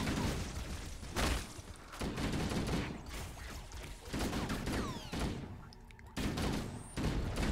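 A grenade goes off in a video game amid a burst of combat noise. Loud booms and rapid gunfire crack repeatedly in close succession, with brief lulls between the volleys.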